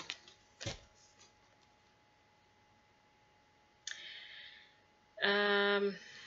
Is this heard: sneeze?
no